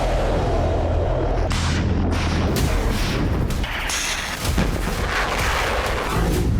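Dense, continuous rumbling booms and blasts of Russian missile strikes on Ukraine, with heavy low-end roar, loud and sustained throughout, like a barrage of explosions without any talking.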